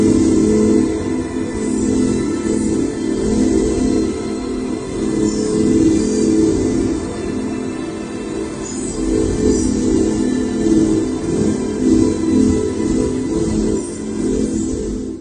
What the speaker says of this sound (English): He has the sound from Samyasi's craft.